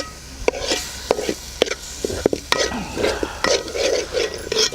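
Chili powder is stirred into rohu fish curry in a sizzling pan, with repeated scraping strokes and spoon knocks over a light frying hiss.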